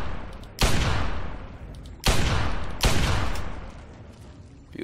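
Gunfire in the Fallout 3 video game: three loud, sharp shots spaced about a second apart, each with a long decaying echo, and no talk over them.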